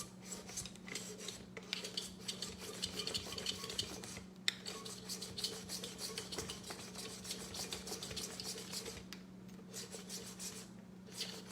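Cornbread batter being combined in a batter mixer and dispenser, giving a steady stirring, scraping rub with light clinks and taps that runs continuously up close, with no talking.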